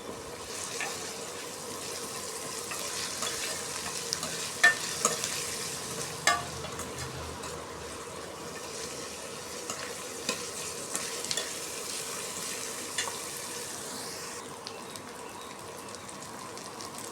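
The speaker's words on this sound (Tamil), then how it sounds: "இண்டக்ஷன் அடுப்பில் செய்யும்போது நார்மலாகவே அடி பிடிக்கும் அதனால் நான் கிளறி விட்டுக்கிட்டே இருக்கேன்" Steady sizzling of prawns frying in a pan on an induction stove, with occasional soft clinks of a utensil stirring, continuous and fairly quiet.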